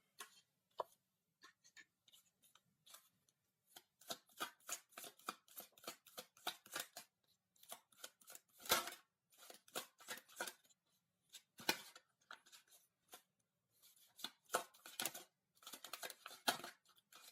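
Tarot cards are shuffled and drawn in bursts of crisp riffling and flicking, irregular clusters of sharp papery snaps close to the microphone with brief quiet gaps between them.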